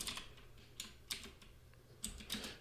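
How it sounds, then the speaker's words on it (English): Quiet clicking of a computer keyboard while Java code is typed, irregular keystrokes arriving in small bursts with short pauses, close and soft. "we'll just start off by typing Jane dot say hello to John"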